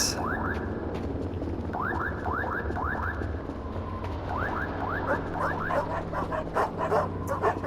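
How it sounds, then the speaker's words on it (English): Several dogs bark and yip in the horror video game Voices of the Void, a rapid run of high barks repeating in bursts over a constant low rumbling game ambience. "Dogs are pretty scary, you know."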